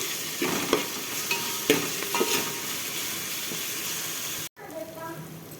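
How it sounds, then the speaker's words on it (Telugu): Ginger paste fries in a pan for bagara rice, a steady close sizzle broken by scraping stirs, ending abruptly before a quieter moment. "కొద్దిగా అల్లం పేస్ట్ వేయించుకోవాలి. ఇది పచ్చివాసన పోయేంత వరకు దొరగా వేయించుకోవాలి."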